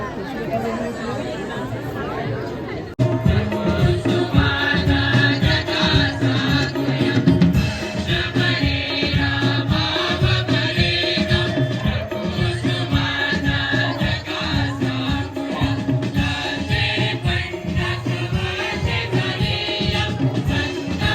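Dense crowd chatter fills a church gathering at a village feast mass, a steady babble of many voices close around, with no single voice standing out.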